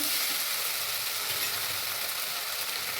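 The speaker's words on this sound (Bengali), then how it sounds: "সামান্য জল দিয়ে আমি এটাকে কষতে আছি।" Paneer mixture with garam masala, tomato sauce and a splash of water sizzling steadily in a pan, a dense, even hiss that stays close and loud throughout without any voices.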